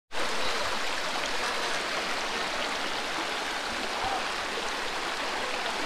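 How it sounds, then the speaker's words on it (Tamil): Water in a river or stream rushes steadily and loudly along its course on a walk toward a waterfall, a continuous close wash of flowing water with no break from start to finish. "தண்ணி எப்படி போகுது பாருங்க, ரிவர் மாதிரி ஆறு மாதிரி"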